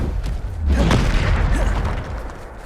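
A Bombarda spell detonates in Hogwarts Legacy on PS5, a loud booming burst with a thudding low swell and crackling debris, rolling on for a couple of seconds amid combat noise.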